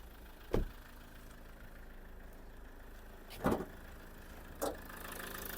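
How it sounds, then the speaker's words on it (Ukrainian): A Toyota RAV4 with automatic transmission idles quietly and steadily, a low faint engine hum broken by three sharp knocks or thumps at irregular intervals. "Робота двигуна."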